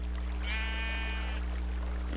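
A goat in the Minecraft video game lets out a single wavering bleat lasting about a second, heard over a steady low hum of game background noise, with no speech.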